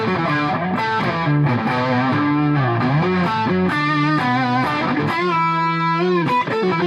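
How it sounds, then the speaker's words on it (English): An electric guitar played through a Boss Katana Artist MkII amp with distortion rings out in sustained, saturated chords and bending notes, loud and close, with no talking. "You can put on a little bit of distortion with it and get a cool sound."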